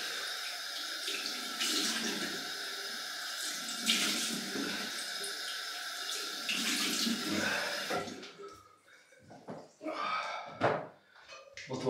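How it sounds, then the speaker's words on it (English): Cold tap water runs steadily into a sink for a post-shave rinse, with hand splashing against the face, then the flow cuts off, leaving scattered drips and wet rubbing, close by. "Cold water rinse."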